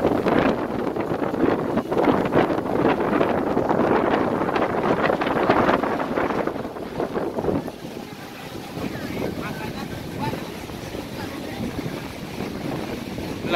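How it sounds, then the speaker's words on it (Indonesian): Strong wind blows across Kuta beach in Bali, buffeting the microphone with loud, gusty rumble over distant surf. The gusts are heaviest early on, then ease into a steadier roar. "Ini anginnya kencang sekali."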